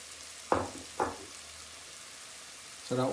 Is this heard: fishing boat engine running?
no